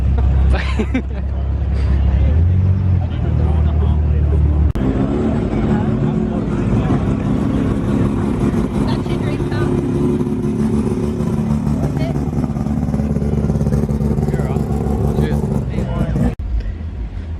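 Car engines rumble and rev loudly at a night car meet on the Gold Coast, one dropping off and another picking up, with crowd chatter and voices mixed in throughout.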